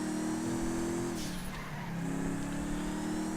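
A Vapid Bullet sports car in GTA 5 drives with a loud, steady engine drone that dips as the gears shift and then climbs again, with a brief tire squeal in the middle.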